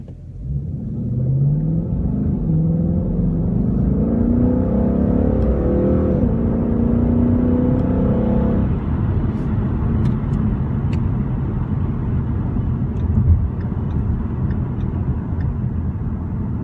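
A 2016 Ford Mustang GT base model with automatic transmission pulls away from a red light, its engine rumbling and rising in a steady, loud acceleration that levels into a sustained cruising drone, with no talking.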